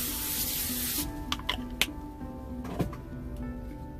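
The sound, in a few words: spraying cooking spray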